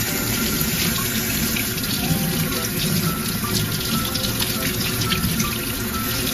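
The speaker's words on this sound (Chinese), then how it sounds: "红萝卜都是先洗干净" Carrots are washed under a running kitchen tap, with a steady close splash of water into the sink and small shifts as the vegetables are handled.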